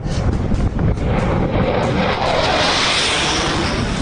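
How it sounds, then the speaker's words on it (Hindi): Fighter jet engines at the Leh air force base at night, a continuous heavy roar with rumbling low end and a rising whoosh toward the end, loud and close with no speech. "फाइटर्स की दमकती लाइट, खूब काले आसमान में जेट इंजन की दहाड़"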